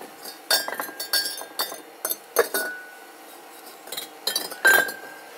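Bisque-fired pottery tea bowls clink against one another in a series of short, bright, glassy taps spread unevenly over a few seconds, close by and with no talking.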